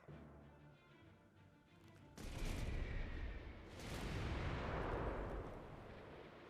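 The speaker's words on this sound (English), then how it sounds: "The mortars are in position, and the target is in range" Mortars bombarding undead in the video game Guild Wars 2, a sudden heavy barrage of booming impacts breaking in after a quieter stretch, rumbling and rolling loudly for several seconds before easing slightly.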